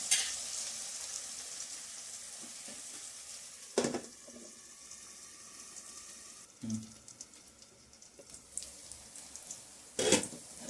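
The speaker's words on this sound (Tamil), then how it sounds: "வெங்காயம் இன்னும் கொஞ்சம் வதங்கணும்." Onions sizzle steadily in a hot pan, with a few sharp clatters and stirring scrapes breaking through the soft, continuous frying hiss.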